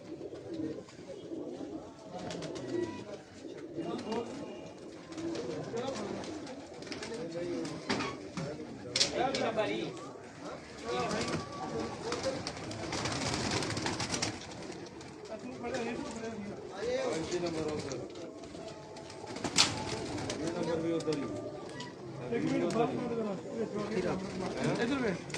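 Low, continuous cooing from Bengali breed pigeons kept on a rooftop loft runs throughout, close and steady, largely under ongoing conversation between several men.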